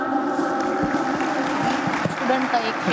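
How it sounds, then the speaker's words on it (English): Applause from an audience at a college induction program, a fairly loud crowd clapping with some murmur and a few cheers mixed in. "Once again, huge round of applause, everyone."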